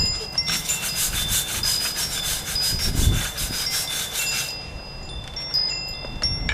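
A metal wire brush scrubs hard against a brick wall to remove concrete residue, giving a steady, loud rasping scrape that runs almost without a break, with faint metallic tinkles near the end.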